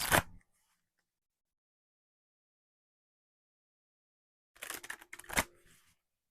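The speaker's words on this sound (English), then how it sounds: "Shuffle these cards" Tarot cards being shuffled by hand: a short papery riffle at the start, then a long silence, then a longer textured burst of shuffling with a sharp snap near the end, close and clear.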